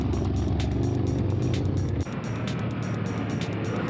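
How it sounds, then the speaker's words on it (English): Toyota cars and Harley motorcycles pass by on a mountain road loop, a steady loud engine roar that shifts abruptly halfway through as one vehicle gives way to another. "Here go the Toyotas and the Harley dudes."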